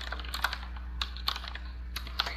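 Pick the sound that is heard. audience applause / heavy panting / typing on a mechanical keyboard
typing on a mechanical keyboard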